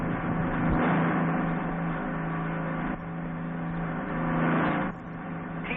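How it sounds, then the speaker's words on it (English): A 1949-era car drives along a road with another car following behind, giving a steady, muffled engine drone and road rumble that swells slightly in places, with no voices over it. "Why don't you let that car behind you pass us?"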